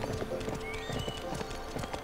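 Hooves of a horse in Barbie Horse Adventures clop in a quick, regular rhythm, close and clear over a soft musical background.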